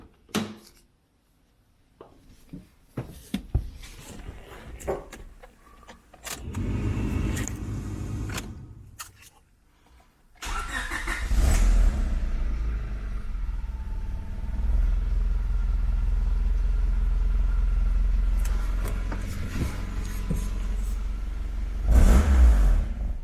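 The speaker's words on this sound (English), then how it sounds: "let's start her up so you can hear what she's like idling" A Nissan GTR engine cranks and catches after some handling noises, then settles into a loud, steady low rumbling idle that carries on for about twelve seconds, with a brief rev near the end.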